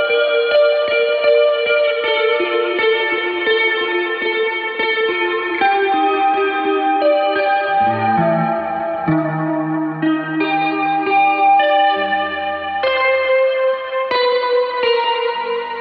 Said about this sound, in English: I'm going to stop noodling with the guitar